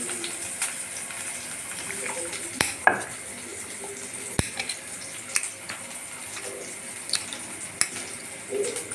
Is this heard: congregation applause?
no